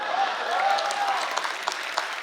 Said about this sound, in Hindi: तालियां जोर से बज लीजिए, ऐसे नहीं वहां बैठे बैठे।